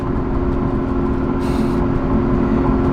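A twin-turbo vehicle towing a jet ski passes by, its engine a steady, loud rumble with a broad road roar that holds throughout without voices.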